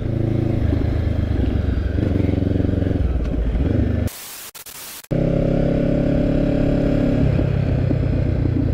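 Engine drone of a Honda CB500X street motorcycle riding along a road, a steady loud hum with a brief near-silent gap in the middle before the engine noise returns.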